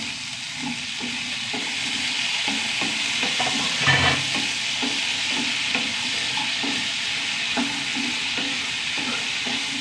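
Onions and a large tomato fry in a pan with a steady close sizzle, while a spoon stirs them in repeated light scraping strokes throughout.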